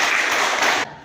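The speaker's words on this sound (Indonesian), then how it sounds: "Tepuk tangan." Classroom of fourth-grade pupils clapping together in a short, dense burst of applause that cuts off abruptly near the end, loud and close with no talking over it.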